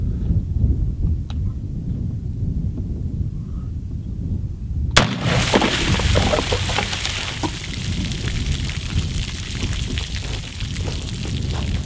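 A Big Fifty rifle fires once outdoors at water jugs, a single sharp loud report midway after a low rumbling quiet, followed by a long burst of splashing and spraying water.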